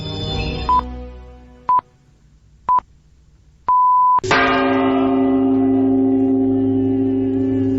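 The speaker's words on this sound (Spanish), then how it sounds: "Esta noche comenzaba con las campanas que se siguen tocando" Four short electronic time pips, then a loud church bell strikes and keeps resonating, its deep ringing tone sustaining to the end.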